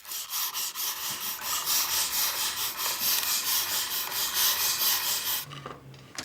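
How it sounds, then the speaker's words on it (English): A shaving rod scrapes steadily across the teeth of a wooden comb cut from hundred-year-old wood, a close, continuous rasping rub in an even rhythm that stops near the end. "Finally, the tooth shaving has begun."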